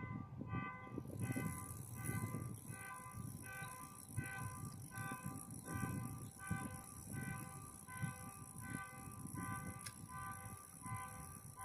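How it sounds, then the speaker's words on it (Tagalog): Train noise rumbles steadily with a long sustained horn blast layered over it, heard at a distance from a vehicle on the road in Seguin, Ontario, continuous throughout with no clear talk. "What's with the horn?"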